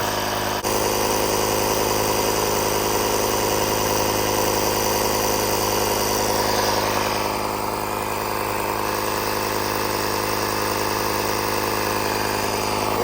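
An air compressor pumping up a Jeep tire to 35 psi runs with a constant, steady mechanical drone and buzzing vibration, close and unbroken for the whole stretch without speech.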